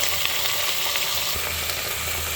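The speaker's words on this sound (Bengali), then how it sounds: "এটা খানিকটা লাল লাল হওয়া অবধি ভাজবো" Vegetables for khichuri fry in hot oil, a dense continuous sizzle, loud and close, with an occasional stirring knock and no talking.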